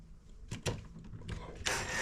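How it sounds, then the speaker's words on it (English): Small 6-32 screws are driven into an electrical box while a GFCI receptacle is installed, giving quiet, scattered scraping and turning noises that end in a longer, brighter rasp. "I'm going to just screw in these 632 screws"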